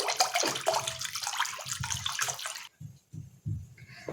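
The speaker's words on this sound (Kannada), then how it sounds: "ಸೊ ನೀರನ್ನ ಹಾಕೋತೇನೆ ನಾ ಈಗ." Water pours and splashes steadily into ground masala for a garlic rasam for almost three seconds, then stops, leaving a few dull knocks and short splashes close by.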